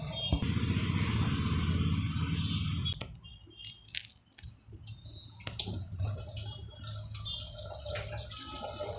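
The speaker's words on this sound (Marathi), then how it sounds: "नंतर त्या सगळ्या फोडी धुवून घ्यायच्या, डाळ धुवून घ्यायची" Ridge gourd pieces and toor dal are rinsed under running tap water in a kitchen, a loud steady gush of water for the first few seconds, then lighter splashing, dripping and clinking as the rinse continues.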